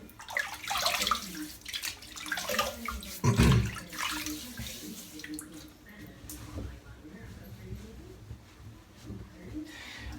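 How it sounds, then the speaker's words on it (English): Water splashed by hand onto a head before a head shave, wet slapping and splashing up close, loudest in the first few seconds and then softer drips and rubbing, with some background noise throughout. "let's wet the head and get stuck in"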